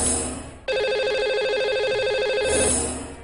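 A phone line rings with a steady, bright electronic ring tone while dialing out to a lucky caller on a radio show, close and loud, starting sharply after a brief hush and continuing for about two seconds before fading.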